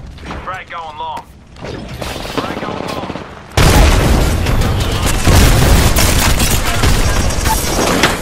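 A frag grenade in Apex Legends bursts into a loud, sustained blast that follows quieter gunfire and game noise, with heavy rumbling that keeps going to the end.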